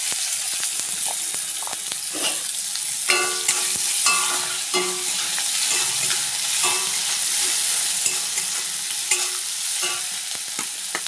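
Chopped onion frying in hot oil in a pan crackles and sizzles loudly, and a spatula stirs and scrapes it again and again throughout, with bursts of spitting oil.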